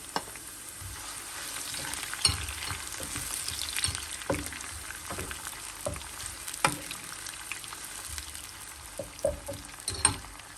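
Green and kapya (red) peppers sauté over roasted onion for a meyhane pilaf, a steady close sizzle with repeated sharp scrapes and taps of a spoon stirring the pan, alone with no talk.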